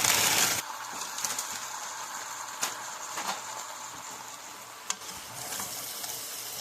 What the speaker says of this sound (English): We are now going to add in, this is a 12 ounce bag of frozen okra.